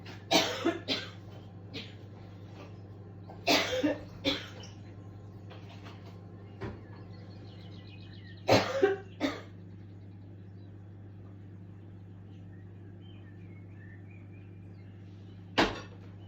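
Dry coughing from a tickling throat: several short, sharp coughs, some in quick pairs, separated by quiet pauses over a low steady room hum.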